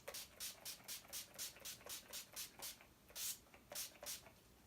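Makeup setting spray misted onto a face in about a dozen quick, evenly spaced pump bursts, each a soft, close hiss, faint overall against a quiet background.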